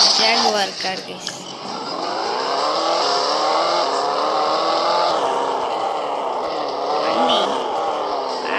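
A Jaguar car drives past close by, its engine a loud, continuous drone with shifting pitch after a brief dip near the start.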